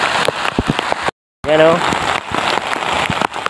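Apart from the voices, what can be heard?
rain falling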